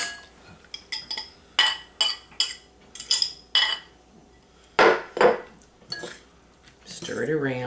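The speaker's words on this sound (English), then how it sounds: "I have an egg and I'm going to beat it" An egg is beaten with a fork in a bowl, making a fast series of light, sharp clinks and taps against the bowl, with short pauses between bursts and a brief voice at the end.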